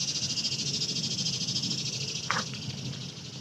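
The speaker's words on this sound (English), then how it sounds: "that cicada is loud" A steady, loud cicada buzz drones continuously outdoors, with a brief clicking noise partway through.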